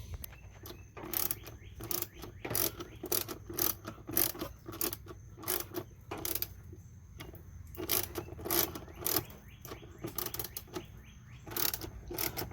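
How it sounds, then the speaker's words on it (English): Ratchet wrench clicking in quick repeated bursts while snugging the screws on a mass air flow sensor of a 2000 Ford Ranger, close up with steady pauses between strokes and no talk. "tighten them down with the wrench"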